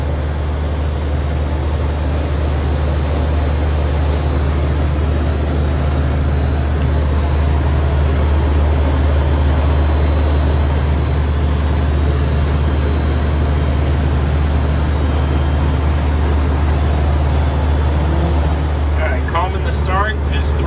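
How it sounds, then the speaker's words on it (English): Air conditioner condenser fan motor at a commercial cooks line, running with a steady, loud low hum and whir that stays constant throughout, with a brief clatter near the end. "the condenser fan motor's good"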